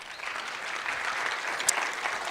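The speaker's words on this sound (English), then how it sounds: "that calls for a round of applause for our innovators in the room" Audience applause for innovators at a national ICT summit, a steady dense wash of many hands clapping from start to finish with no voices over it.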